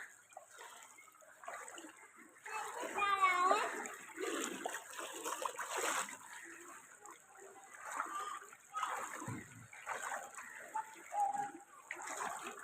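Feet wade slowly through deep floodwater on a waterlogged Kolkata street after a night of heavy rain, making intermittent sloshing splashes at close range, with faint voices now and then in the background.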